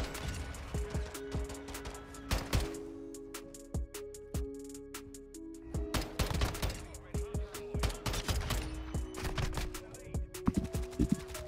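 Rapid gunfire in a Call of Duty MW2 match, loud overlapping shots in dense bursts across the whole stretch, with occasional faint voices underneath.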